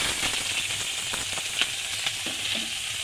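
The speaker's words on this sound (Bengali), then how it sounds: "এবার আমি কেটে রাখা পেঁয়াজগুলো দিয়ে দিচ্ছি।" Chopped onions crackle and sizzle in a hot pan with green chilies already in it, a steady close frying hiss broken by small pops and stirring clicks, with no talking.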